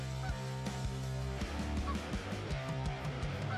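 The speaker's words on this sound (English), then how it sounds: "I think I'm making some geese mad" Geese honk repeatedly in uneven bursts, several loud calls overlapping against a steady low background hum.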